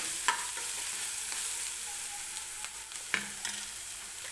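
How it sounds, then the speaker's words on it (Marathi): Onion frying in oil until golden, a steady close sizzle broken by a few sharp scrapes and clicks of stirring, with no one talking. "हलकासा गोल्डन रंग येईपर्यंत कांदा हा तेलामध्येच भाजून घ्यायचा आहे व्यवस्थित"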